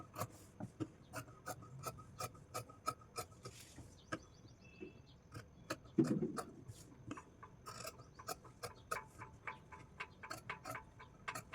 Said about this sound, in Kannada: ಇವಾಗ ಇದನ್ನು ಕಟ್ ಮಾಡ್ಕೊಳ್ಳೋಣ, ಬಟ್ಟೆನ